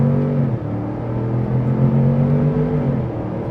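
A 2025 Ford Expedition Tremor launching hard off the line, its engine holding a steady strained drone and rising in pitch under heavy acceleration, loud and continuous from inside the cabin.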